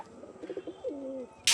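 Pigeons coo in a pigeon farm, a few soft rising and falling calls close by, ending in a brief burst of noise.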